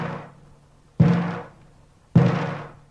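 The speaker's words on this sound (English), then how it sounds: "When I hit this drum gently" A drum is struck softly twice, each hit a dull thud that fades quickly, with a short gap between strikes.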